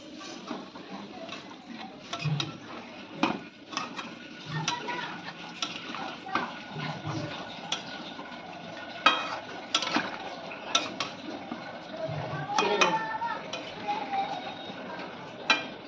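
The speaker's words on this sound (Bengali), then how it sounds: "নেড়ে দেবো" A spoon stirs chicken stew in a metal pot, with irregular clinks and scrapes against the pot and soft bubbling between strokes, close and moderately loud.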